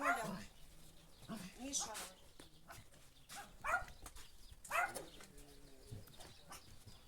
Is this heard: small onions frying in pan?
no